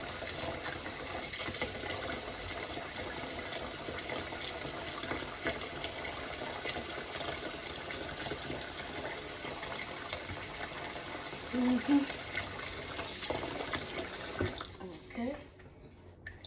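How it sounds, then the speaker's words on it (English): Cold water running from a kitchen tap while pork roast is washed for tamales, a steady rushing flow with splashing as the meat is handled, a voice speaking briefly over it before the water stops near the end. "Let me add some cold water because this water is very hot."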